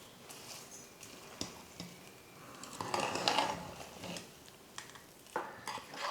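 A spoon stirs tempering into pongal in a pot, giving soft scraping and clinking with a few louder knocks against the pot, fairly quiet and irregular, with no one speaking.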